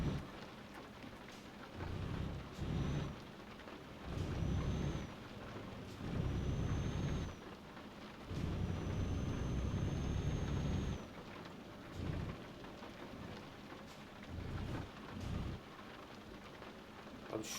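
Rain in the truck-driving game Euro Truck Simulator 2, a steady patter with repeated low rumbling swells rising and falling every couple of seconds, fairly quiet overall.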